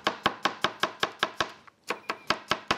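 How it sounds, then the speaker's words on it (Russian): Steady, rhythmic knife chops through garlic on a cutting board, about a dozen sharp strikes with a short pause midway, close and clear with no talking. "и нарублю чеснок."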